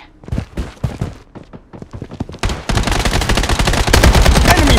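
Gunfire in the mobile shooter Project Bloodstrike: scattered single shots and short bursts give way to loud, sustained automatic fire.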